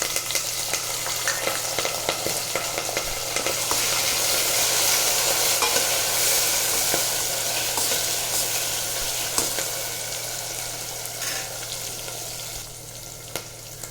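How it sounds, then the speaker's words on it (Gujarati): Potatoes, chopped green chillies, curry leaves and tomato fry in a pan for green garlic khichdi, giving a steady, loud, close sizzle with occasional stirring clicks and no voices. "હવે આપણે તેમાં લીલા મરચાં સુધારેલા, લીમડો અને 1 નંગ ટમેટું નાખવાનું છે."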